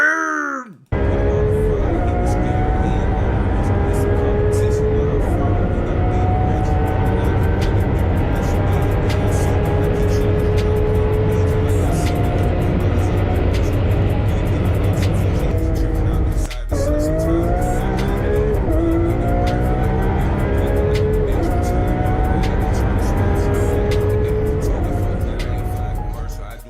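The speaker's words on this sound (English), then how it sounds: "just rev up that engine" A car engine revs continuously and loudly for nearly half a minute, with rising and falling pitch sweeps, a brief dip midway and voices underneath.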